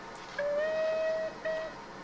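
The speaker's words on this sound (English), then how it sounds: "So let's give a quick toot of the whistle." Steam whistle of a rebuilt Bulleid Light Pacific locomotive in Train Simulator 2021, two clear toots: a long steady blast followed by a short one, heard alone against quiet background.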